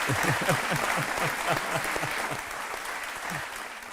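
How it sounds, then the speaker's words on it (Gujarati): Applause fills a TV studio on a Gujarati talk show, a steady rhythmic clapping from the audience with a voice cutting in faintly. "તાળીઓ વગાડો ભાઈ."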